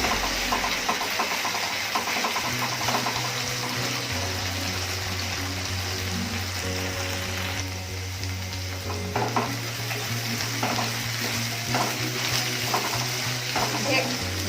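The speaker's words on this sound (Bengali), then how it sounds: "ভেন্ডিটা ভাজা হয়ে গেছে, দেখুন একবার।" Okra and potatoes fry and are stirred in a pan for a dry Bengali-style vegetable curry, giving a steady loud sizzle with repeated scraping stir strokes and a constant low hum underneath, no talking.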